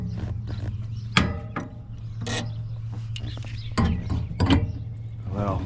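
Bolts are tightened by hand while mounting a weBoost Drive Reach Overland cellular booster on clamps on a truck camper, producing ratcheting clicks and metallic clanks in irregular bursts, close by.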